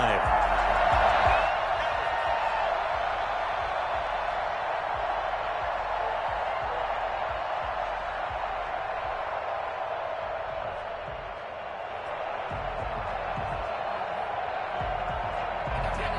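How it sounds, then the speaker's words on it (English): Football stadium crowd at a Browns game roaring steadily and loudly, a broad wash of cheering that rises early and then holds, with clapping and a commentator talking over it. "this crowd loves it as their guys hold on the opening drive"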